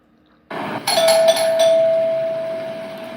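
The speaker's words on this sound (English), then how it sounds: "I think the doorbell is attached to the front door." A doorbell at a house's front door rings once loudly and nearby, a bright chime that sustains and slowly fades; no voices.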